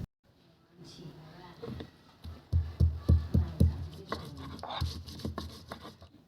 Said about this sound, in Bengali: তারপরে এটাকে ভালো করে আমি এখানে আদাগুলোকে এখন বেটে নিচ্ছি